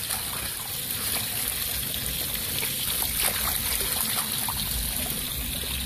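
Water rushes steadily through a gold mining sluice lined with ribbed matting, a constant loud trickling and splashing wash that holds even from start to finish.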